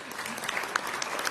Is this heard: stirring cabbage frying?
no